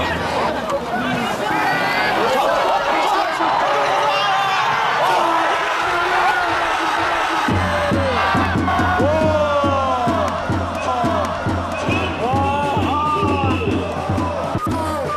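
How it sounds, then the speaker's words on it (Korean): A stadium crowd at a Gangwon FC football match chants and cheers in rhythmic waves, with steady thumping beats underneath, loud and continuous, and a voice talking over the noise. "점점 경기 시간이 지날수록 목소리가 커지고 있는 것 같아요, 응원 소리가"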